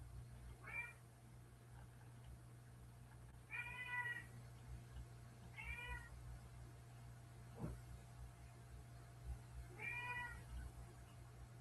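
A house cat meows four times, spaced a few seconds apart at moderate distance, with one short sharp knock between them over a steady low indoor hum.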